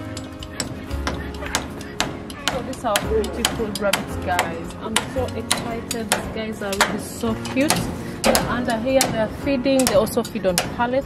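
Repeated sharp hammer knocks from ongoing construction work on a free-range mixed farm, with irregular, fairly close strikes running throughout under continuous talk.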